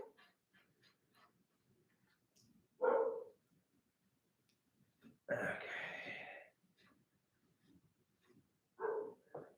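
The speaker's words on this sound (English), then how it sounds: "dogs that are barking" Dogs barking outdoors during a bicycle build, three separate bursts of barks spaced apart, fairly loud against a quiet background with faint low rumble between.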